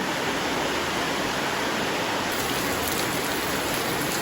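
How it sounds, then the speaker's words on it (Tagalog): Steady, dense roar of heavy rain pouring without a break onto an outdoor garden umbrella, loud and close, with no voices. "Oh, lakas ng ulan."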